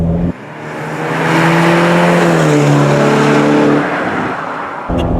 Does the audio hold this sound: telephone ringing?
no